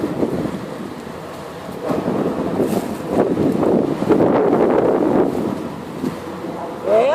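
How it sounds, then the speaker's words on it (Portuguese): Strong wind gusts buffet an outdoor campfire site with a steady, rough roar on the microphone that swells and eases across the clip, loud and close, without clear talk. "Rapaz, o vento tá que tá, viu?"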